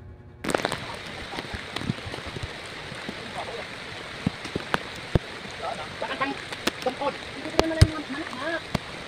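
Floodwater rushes during a typhoon in North Fairview, a steady broad wash of flowing current and rain-like patter with scattered sharp splashes and knocks, heard fairly close as people talk nearby.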